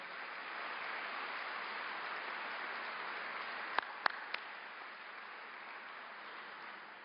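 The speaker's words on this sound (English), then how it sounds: "Let's give him a round of applause." Applause from a large audience at a business annual meeting, a steady wash of clapping heard somewhat distantly, with a few sharp knocks in the middle.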